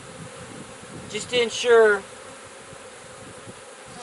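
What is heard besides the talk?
honey bees buzzing at an open hive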